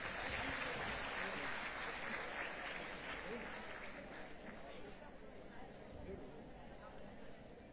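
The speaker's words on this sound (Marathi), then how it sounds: "जोरदार टाळ्या वाजवू देत." Audience applause at a state-level inauguration ceremony in Mumbai, a dense steady clapping wash that holds for several seconds and gradually thins, with crowd murmur mixed in.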